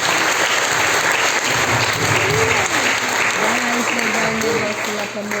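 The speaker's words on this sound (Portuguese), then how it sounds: "Uma salva de palmas para o nosso Senhor." A church congregation applauds steadily throughout, a dense wash of clapping with crowd noise and voices mixed in, loud and sustained with no pause.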